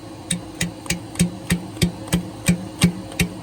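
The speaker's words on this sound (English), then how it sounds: "That compressor will kick off here shortly" An air compressor in a workshop chugs with a fast, regular pumping knock, about three beats per second, each stroke a sharp thump over a steady mechanical hum, close and fairly loud.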